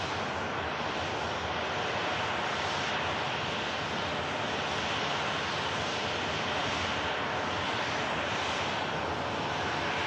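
Aircraft engines at Manchester Airport, a constant broad roar holding steady and fairly loud throughout, with no voices.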